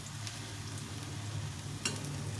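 Cabbage and cauliflower vegetable pakoras fry in hot oil with a steady, close crackling sizzle and occasional sharper pops.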